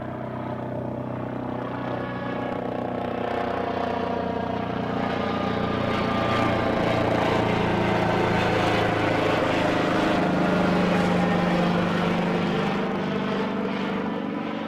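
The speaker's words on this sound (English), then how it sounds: "First chopper of the show, folks, I think." A helicopter flies inbound at Newcastle airport, a steady, loud rotor-and-engine drone that holds for about fifteen seconds, swelling slightly midway with no talk over it.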